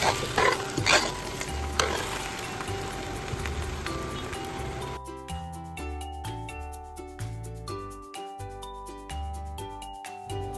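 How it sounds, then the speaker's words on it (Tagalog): Cooked glutinous rice is stirred into sweet coconut latik in a pan over lowered heat. A steady scraping and sizzling runs close and continuous, and a soft tonal backing is present underneath. No one speaks. "Hahaluin lang natin ito hanggang sa mag-well combine na."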